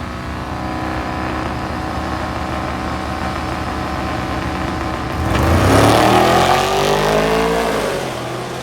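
Two drag racing cars at Hot Rod Drag Week 2025 idle loudly at the line, then launch together with a sudden surge of roaring engine revs that climb in pitch as they pull away, no voices over it.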